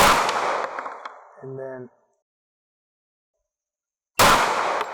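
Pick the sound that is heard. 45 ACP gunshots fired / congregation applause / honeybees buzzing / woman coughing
45 ACP gunshots fired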